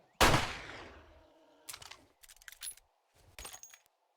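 Pipe rifle firing in a video game: one sharp loud crack with a decaying tail, followed by several fainter clattering bursts spaced apart, near and with no talk.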